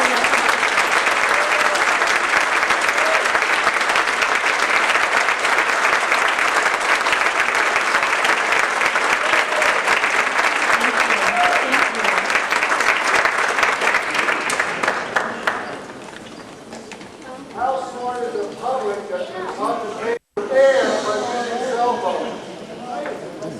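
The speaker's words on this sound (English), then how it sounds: "Let's give a round of applause to all of our Green Party." Audience applause for the Green Party at a debate in San Francisco: loud, sustained clapping from a crowd for about fifteen seconds, then fading into scattered claps and murmuring voices.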